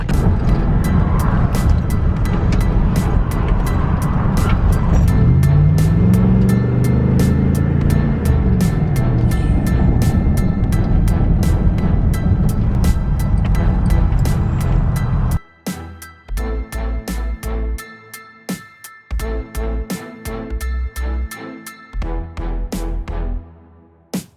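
An LS-swapped Chevy Blazer race car drives with a loud, rough V8 engine drone that rises and falls, then turns choppier and pulses with revs and shifts toward the end.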